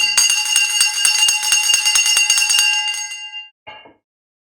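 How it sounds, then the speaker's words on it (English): A bell rings loudly at a Jamaican political gathering, rapid repeated bright strikes for about three seconds, then a short final ring that quickly dies away. "Ring the bell."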